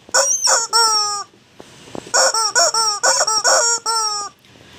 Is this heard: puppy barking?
no